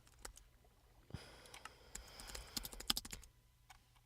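Computer keyboard typing at close range: quiet, irregular clicks of keys in short bursts, with a busier flurry in the middle.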